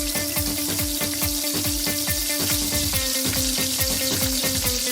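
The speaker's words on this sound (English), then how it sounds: "So we start by boiling our meat with about half a teaspoon of salt" Meat cooks in a pot with salt and pilau masala for Swahili-style pilau, giving a steady, busy sizzle and bubbling with a constant low hum underneath, close and continuous without any talk.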